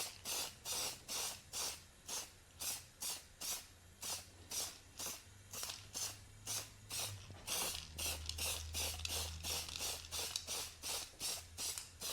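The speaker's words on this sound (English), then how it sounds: "Let's spray it on and see how it looks." Rapid, rhythmic aerosol dye spraying onto suede in a 1992 Honda Vigor interior, short hissing bursts repeating steadily and close up, with a faint low hum underneath.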